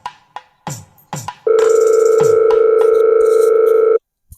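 A telephone on the line for repeated calls: a few short clicks and thumps, then a loud, steady electronic tone holds for about two and a half seconds before cutting off abruptly.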